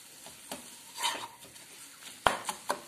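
A spoon scrapes and stirs through a pan of mashed onion mixture for Mumbai pav bhaji, giving a few soft scrapes followed by three sharper knocks against the pan near the end, with no talking.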